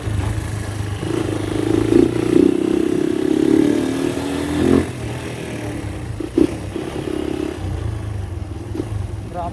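A Honda XL 200 motorcycle engine revs hard, rising and falling in several loud, close bursts with a steady mechanical clatter beneath, easing back between throttle blips.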